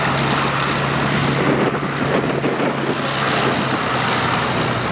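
Propeller engine drone of a Bristol Blenheim aircraft at an air show, a steady, fairly loud broadband roar with a low hum holding throughout, no voices.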